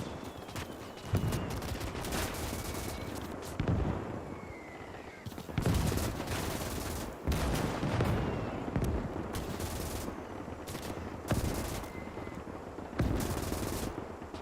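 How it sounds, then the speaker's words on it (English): Machine gun fire rattles in rapid sustained bursts in the game Call to Arms – Gates of Hell, mixed with distant shots and battlefield noise. "this MG up here is putting in work"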